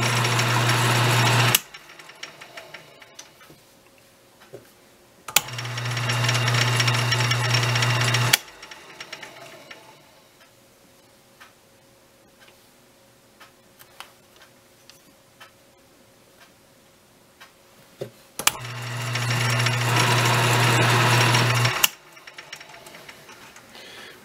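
An Emco Compact 5 lathe cutting threads runs in three loud bursts of motor whine and chattering cut, separated by quieter stretches of faint ticking and mechanical clicks.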